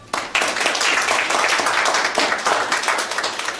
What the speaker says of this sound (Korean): 김꽃지 교우님 여러분 큰 박수로 환영해 주시면 고맙겠습니다.